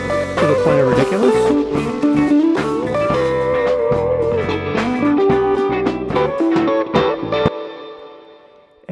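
Loud, heavily distorted music run through the Airwindows Coils2 transformer saturation plugin pushed to extremes, dense and crushed for most of the clip before thinning out and dropping away near the end.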